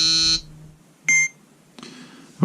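A phone app scanning a solar inverter gives a harsh buzzing error beep first, then a short higher electronic beep, with faint rustling handling noise between and after.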